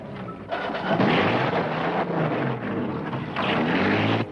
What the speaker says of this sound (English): Hold it, I hear a motorboat.